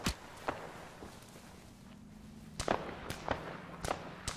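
Distant gunfire in the Arma 3 video game on the Tanoa map, heard as a few sharp, isolated cracks, then a quicker cluster of shots toward the end over a low ambient hum.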